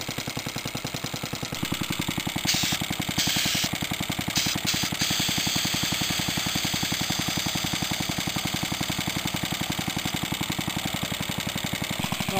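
A Suffolk air compressor runs and builds tank pressure, its piston thumping in a fast, steady, loud mechanical chug that continues unbroken, with a belt that tends to slip.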